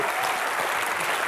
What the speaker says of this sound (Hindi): चलिए फिर हो जाए एक बार तालियां भज्जी और गीता के लिए।